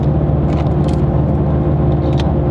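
Twin-turbo 2019 Shelby GT350 800R rolling along in 6th gear, a steady low engine rumble and road hum heard from inside the cabin, smooth and unbroken, with no talking.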